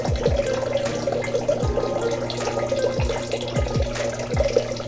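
Tap water runs into a sink during medical handwashing, a close, steady splashing stream broken by repeated low gurgling drops, with no speech.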